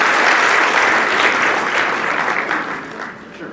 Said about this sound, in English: So one more round of applause to the Dhingras.